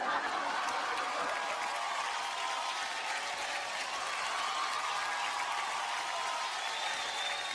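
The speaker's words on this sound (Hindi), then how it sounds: "तालियां होनी चाहिए।" A studio audience at a comedy show applauds a comedy team in a dense, continuous wash of clapping that holds steady and loud throughout.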